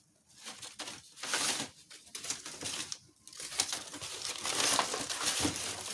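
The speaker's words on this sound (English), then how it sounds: "I'm going to put it back in the box where it's wrapped in a lot of paper and the bubble wrap." Wrapping paper and bubble wrap crinkle and rustle continuously while an item is packed back into its box, close and fairly loud, with no talking.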